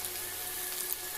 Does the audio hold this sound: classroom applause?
no